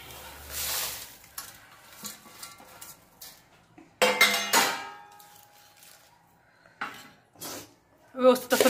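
Roasted whole spices for Kolhapuri black chilli masala being tossed and mixed in a metal dish, with scattered scraping, rattling clinks and knocks of varying loudness, some sharp bursts near the middle and end.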